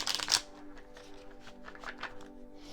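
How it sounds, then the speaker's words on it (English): A deck of tarot cards is riffled and shuffled close by, with a quick burst of crisp card flutter at the start, then softer slides and taps as the cards settle, over a faint background hum. "let's shuffle a little bit"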